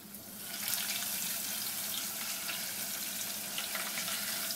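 Tortillas frying in hot oil for fried ice cream, a steady bright hiss and crackle of sizzling that swells in the first second and then holds evenly, fairly soft and close.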